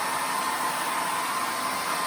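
A hair dryer is turned up to high and blows steadily with a loud, constant airy whoosh that does not change, close by and with no talk over it.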